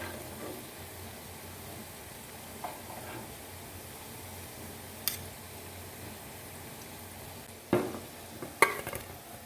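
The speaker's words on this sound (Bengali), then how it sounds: "বাকি রোল পুলিগুলো আমি ভেজে নেব" Roll puli pitha, a rolled Bengali rice-flour sweet, fries in hot oil with a soft, steady sizzle, broken by a few sharp clinks and scrapes of a utensil near the end; no one speaks.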